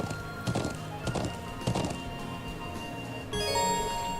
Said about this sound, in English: How to ride the horse.